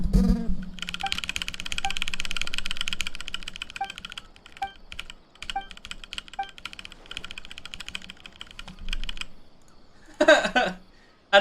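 Quick bursts of typing on a computer keyboard, close and crisp, with rapid clicking runs and brief pauses over faint background game sounds.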